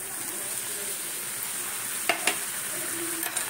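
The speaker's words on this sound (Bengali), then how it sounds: "এবারে এই যে দিয়েছি এটার সঙ্গে সুন্দর হয়ে যাবে, ফুটতে থাকবে, সুন্দর হয়ে যাবে।" A coconut, sugar and milk mixture for coconut naru simmers and is stirred in a pan. A soft, steady sizzle runs throughout, with a couple of faint scraping clicks from the spoon.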